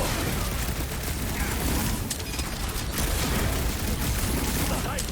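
Fast, dense gunfire from Guardians of the Galaxy, a continuous rattling fusillade of rapid shots with mechanical clatter, steady and loud throughout.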